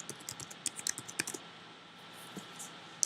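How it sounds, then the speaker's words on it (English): Password typed on a computer keyboard while connecting to a Linux server: a quick run of light, crisp key clicks in the first second and a half, then a quieter gap and a few more taps, with no talking. "While you're typing in your password, nothing shows up."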